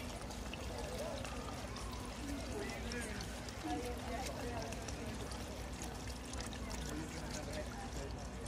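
Diesel pours into a tractor's fuel tank with a steady low gurgling, continuous and fairly quiet, with a faint background rumble throughout.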